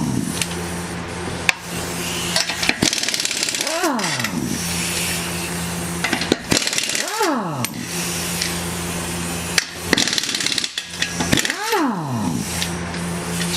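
An Earthquake impact wrench rated around 700 foot-pounds zipping lug nuts off a Jeep CJ wheel, loud rattling bursts that rise and fall in pitch several times, close up, with a voice between bursts.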